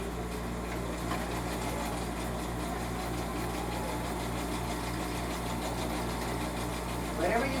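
A sewing machine runs steadily, its low motor hum carrying a fast, regular mechanical chatter at an even pace.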